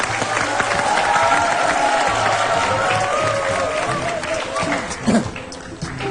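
A studio audience on a television talk show breaks into sustained applause, a broad crowd clapping with a few cheers and voices mixed through it, easing off near the close.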